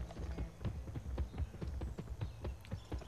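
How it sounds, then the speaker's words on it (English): Hooves of a white horse clip-clopping in a video game, a quick steady rhythm of soft thuds close by, with no voices over them. "You're just weird white horse."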